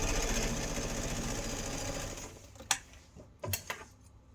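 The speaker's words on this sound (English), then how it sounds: "So we're just stitching right across the top with a little top stitch." A sewing machine top stitches across fabric in a steady, rapid mechanical whir that stops partway through, followed by a few sharp clicks and clunks close by.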